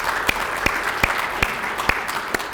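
An audience at a regional advisory council meeting applauds to welcome a vice-chairman, a steady wash of clapping with sharper, louder claps standing out roughly every half second throughout.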